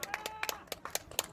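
Scattered, quiet claps from an audience at a political speech, a few sparse hand smacks spread out in an uneven rhythm rather than a full ovation.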